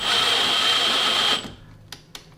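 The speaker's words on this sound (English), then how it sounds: "get your tap lined up, and then gently feed it into those threads." A thread tap fed into the sheet metal of a Jeep body gives a steady high mechanical whir for about a second and a half, then stops, followed by two brief sharp clicks.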